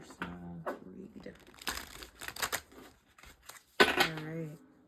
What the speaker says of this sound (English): I'm just gonna give this a quick little shuffle.